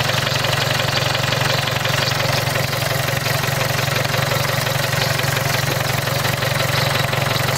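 Engine with glow plugs in the cylinder head running at idle while it warms up, a steady continuous hum with a low rhythmic knock, heard alone throughout.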